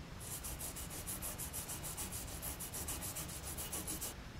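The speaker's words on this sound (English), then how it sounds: "take a tube brush and spray down our holes here with some penetrating oil and just clean them out" A tube brush scrubs back and forth inside the trailer hitch mounting holes of a 2019 Ford Ranger, a rhythmic rasping stroke repeated about twenty times, close and steady with no talk.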